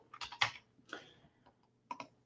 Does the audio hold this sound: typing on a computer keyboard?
yes